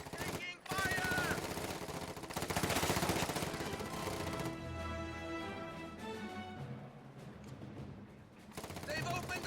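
Rattling machine-gun and rifle fire echoes through a video game battle, dense and loud in stretches, with game radio voices and other speech heard over the fighting.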